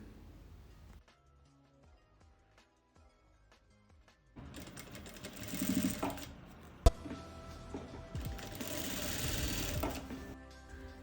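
A sewing machine stitches ribbon onto a fabric book cover for a Quran, starting after a quiet pause and running in a steady, close, rapid mechanical whir for several seconds with a sharp click midway.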